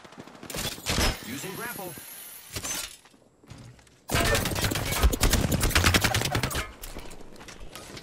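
Bursts of rapid gunfire crackle and shatter from an attacking squad in Apex Legends, with a short volley early on, then dense, loud, continuous shooting for several seconds, and a brief voice speaking in between.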